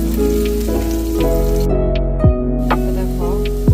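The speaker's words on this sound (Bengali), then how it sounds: "দেখো কাঁচামরিচ আর রসুনের কুচিটা দিয়ে দিচ্ছি। এটাকে আমি এখন ভালো করে সটে করে দেবো।" Green chili and garlic sauté in a hot pan while chicken chow mein is being prepared, giving a steady close sizzle under a low hum, with a few brief utensil clinks.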